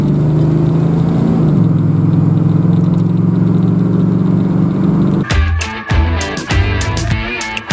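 An old van engine idles steadily with a low, continuous rumble for about five seconds, then gives way to a louder, choppier run of revs and clatter with no talking.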